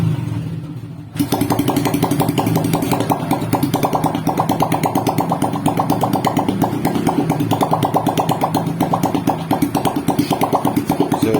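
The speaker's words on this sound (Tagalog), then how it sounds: "pinapaandar ko lang ng walang tambutso para sigurado akong malinis yung usok" A Honda XRM125 motorcycle engine, run with its exhaust pipe removed, starts up and runs loud and raw, a rapid steady putter with no muffling, continuing alone without pause.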